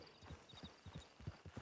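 Horse hooves clip-clop at a steady walking rhythm in the Red Dead Redemption 2 video game, a run of distinct close, moderately loud thuds with no talk over them.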